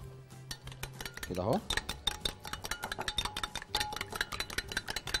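A spoon stirs a potato mixture with salt and paprika in a bowl, giving close, rapid clinks and scrapes against the bowl in quick bursts, with a short spoken remark near the start.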